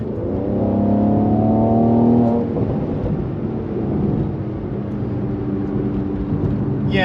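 Mercedes C43 AMG sedan engine revving hard under acceleration, its note rising in steps through quick gear changes for a couple of seconds, then settling to a steadier, lower drone of road and engine noise.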